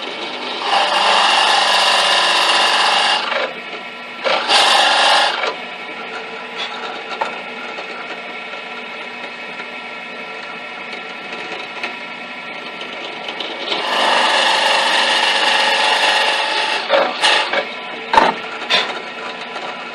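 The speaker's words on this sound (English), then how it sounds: "to make the two through holes here, I'm going to start with a countersink to hide the bolt head" A power drill with a countersink bit bores through-holes in wood for a homemade bike rack. The whirring grind comes in two short bursts and then one longer burst, with quiet pauses and a few small knocks between them.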